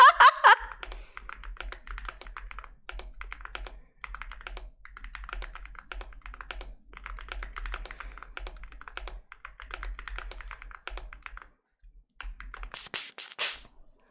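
Fast bursts of typing on a computer keyboard patter close by in irregular runs with short pauses, ending with a few quick sprays from a spray bottle.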